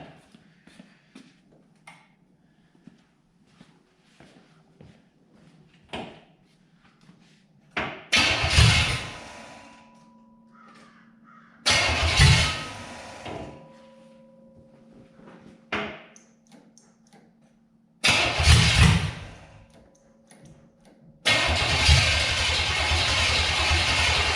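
A primed small engine with the choke closed, started by hand: several separate cranking bursts with quiet gaps between them, then the engine catches and runs steadily and loudly to the end.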